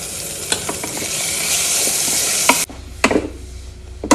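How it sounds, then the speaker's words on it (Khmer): Beef stir-frying with garlic in a hot pan, a steady loud sizzle with scraping stir strokes and occasional clinks of a utensil, close up, with no voices. "យើងដាក់ខ្ទឹមសយើងឈ្ងុយចឹងហើយយើងដាក់សាច់គោចូលមក"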